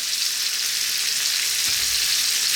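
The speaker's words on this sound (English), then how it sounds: "What we're going to do simply for about 3 or 4 minutes is sweat these onions down" Onions sweating in a frying pan, a steady close hiss of sizzling fat with a brief low thump partway through.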